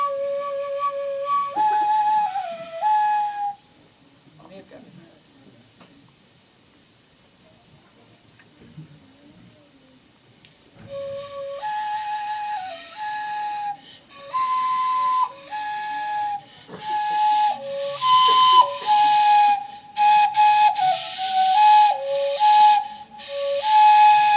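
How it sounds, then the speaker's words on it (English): A flute is played as a test to sound like it is in a canyon. Breathy held notes with small pitch bends are broken by a quiet gap, then return louder and airier, with no talking. "I'm going to do a little test, because then the flute kind of sounds like in a canyon too."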